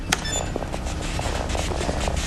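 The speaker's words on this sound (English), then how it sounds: "That is the sound of subspace." Sci-fi sound effect meant as subspace, a steady wash of random static-like radiation noise with faint crackles and a brief tonal blip near the start, continuous and moderately quiet.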